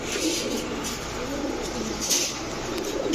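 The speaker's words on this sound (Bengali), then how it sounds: "এখন দেখাবো এক জোড়া ছাড়াছাড়ি করা দুধ খাকি কবুতর" A pair of milky khaki pigeons coos softly nearby, low murmuring calls over a faint background hiss.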